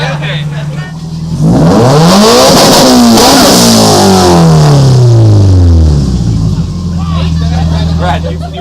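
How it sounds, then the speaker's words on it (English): Subaru car engines rev hard at an outdoor student car show, one engine climbing and falling through several loud sweeping revs close by before settling back to idle, with people talking around it. "I guess they're gonna start revving some engines,"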